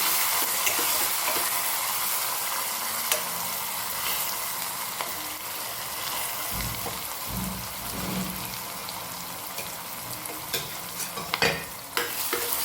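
Chopped onion is stirred into hot oil in a frying pan over a high gas flame, producing a continuous close sizzle with scattered scraping and tapping of the spoon, busier toward the end.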